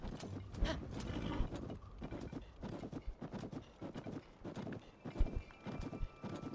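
Horse hooves in The Legend of Zelda: Tears of the Kingdom clip-clop at a brisk, steady trot, with a faint whinny and a low background hum; the sound is quiet and somewhat distant.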